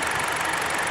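Steady idle of a 2017 Jeep Patriot's 2.4-liter four-cylinder engine, a continuous even rumble with faint mechanical ticking, heard close and alone for about a second.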